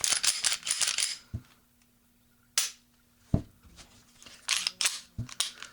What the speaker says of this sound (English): Put the Glock back together.